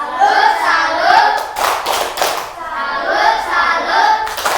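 A school class performs a rhythmic salute clap for a student group, with young voices chanting in unison around a quick burst of sharp, close hand claps in the middle and another at the end.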